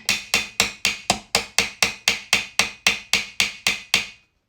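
A hammer strikes a plastic basket-hilt bracket held over the edge of an anvil, about fourteen sharp, evenly spaced whacks in quick succession, loud and close, with no voices.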